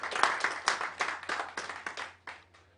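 A small church audience claps at a local product launch, about ten soft, separate claps in a loose steady rhythm over a low constant hum, thinning out toward the end.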